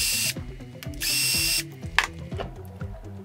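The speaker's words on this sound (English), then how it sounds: "I'm going to attempt to just undo all the screws here and just lift that off." A power tool drives out chassis screws on a WLtoys 144001 RC car in short whirring bursts, with close ratcheting clicks and small rattles of parts between the spins.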